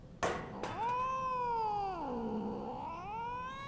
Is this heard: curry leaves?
no